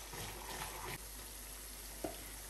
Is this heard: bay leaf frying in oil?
yes